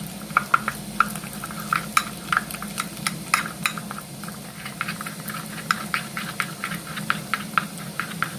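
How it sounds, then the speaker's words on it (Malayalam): Oreo biscuit cream is beaten with milk in a bowl, with rapid, regular light clicks and taps of the utensil over a steady low hum. "ബിസ്ക്കറ്റിൻ്റെ ക്രീം നന്നായിട്ട് ബീറ്റ് ചെയ്ത് പാലും കൂടി ഒഴിച്ച് ഒരു ക്രീം പരുവത്തിലാക്കി എടുക്കണം"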